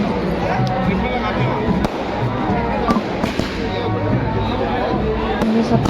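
Firecrackers burst continuously at a Kumaoni wedding, a dense, loud crackling barrage with sharp pops. Crowd noise runs underneath.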